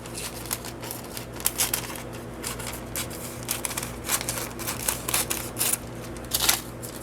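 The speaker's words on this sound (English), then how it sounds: "I think with this one I'm going to cut some paper down. I'll find scissors here." Scissors snip through book-page paper for junk-journal charms: a run of small, crisp cutting clicks and rustles at close range, irregular and fairly quiet, over a faint steady hum.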